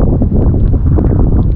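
Loud wind on the Apao Rolling Hills in Abra, Philippines buffets and roars against the microphone in continuous, rumbling gusts.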